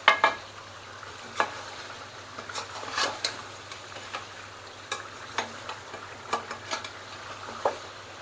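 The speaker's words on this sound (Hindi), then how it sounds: "मैं खड़े खड़े पायों की भुनाई करती हूँ" Beef trotters fry in a pot with a steady low sizzle, while a spoon scrapes and knocks against the pot in irregular stirring strokes, heard close up with no talking.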